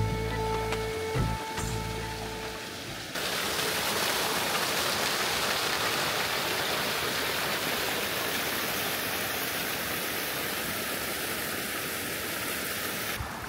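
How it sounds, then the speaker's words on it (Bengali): A forest waterfall in Purulia rushes with a steady, dense roar of falling water, loud and constant, after a brief opening of muffled handling noise. "ঝর্ণার আওয়াজ"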